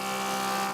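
Power tool running on wood being cut and sanded for bed frames, a sustained steady whine with no variation, loud and close for under a second, cutting off near the end.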